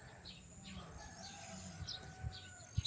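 Chickens cluck and a rooster calls faintly at a distance, over a quiet outdoor background with a few soft bird chirps.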